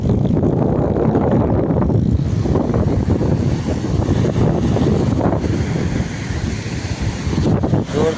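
Sea waves surging onto the shore near Somnath, a loud continuous roar of surf mixed with heavy wind buffeting the microphone, no voices.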